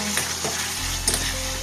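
Raw tomato sambharo stirred in a pan as it cooks, a soft continuous sizzle with scraping and shuffling stirs and a low steady hum underneath.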